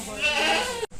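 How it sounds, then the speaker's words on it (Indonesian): Goats and sheep at a farm, one loud wavering bleat close by that cuts off abruptly near the end. "Di Kurdifarm tersebut juga ada kambing dan domba."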